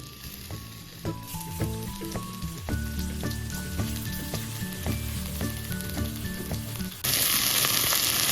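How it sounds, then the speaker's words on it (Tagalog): Chicken breasts searing in oil in a pan give a continuous sizzle under a run of steady tonal notes, and the hiss turns louder and brighter near the end. "Tapos ilalagay natin yung ating mga chicken breast. I-sear muna natin sila."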